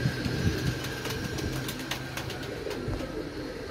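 A pigeon coos softly in a few low, throaty notes, faint against a steady outdoor background hum.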